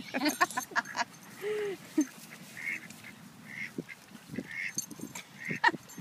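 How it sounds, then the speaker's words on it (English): Ducks and geese being fed bread make repeated honks and quacks at close range, broken into short bursts over several seconds while people talk nearby. "Lucy, are you having fun feeding the ducks, or are you having fun eating bread"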